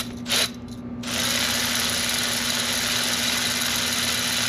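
An electric ratchet whirs steadily on a car's sway bar bolt, a close continuous motor drone with a short start-stop burst just before it runs on.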